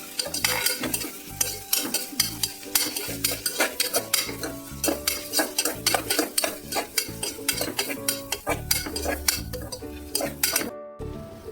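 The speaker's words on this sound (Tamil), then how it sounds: "நம்ம அதுக்கு முன்னாடி இதைய நம்ம நல்லா வறுத்துக்கணும்." Garlic and chilies sizzle frying in a pan while a utensil stirs and scrapes in a steady, busy rhythm, with soft music underneath.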